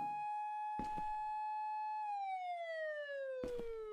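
A police siren in a video game wails as a steady electronic tone, then slides downward in pitch, loud and alone, broken by a few short sharp bursts.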